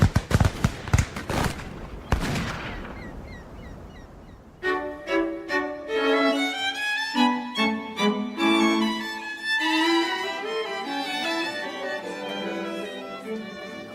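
Naval guns fire in a radio drama battle scene, a quick run of loud booming blasts in the first couple of seconds, after which the shots die away and music rises.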